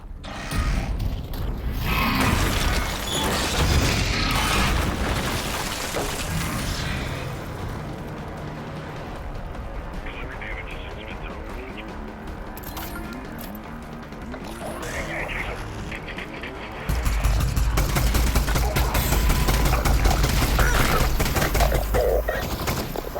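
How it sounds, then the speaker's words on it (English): In Half-Life: Alyx, a Strider tears away a wall and then opens fire, with heavy mechanical grinding and crashing debris giving way to loud rapid bursts of gunfire. A voice talks over much of it. "we gave the Strider a moment to pause after tearing away the wall to look at the player before it started to fire again"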